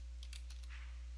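A handful of quick keystrokes tap on a computer keyboard, close and clear over a steady low electrical hum with no talk.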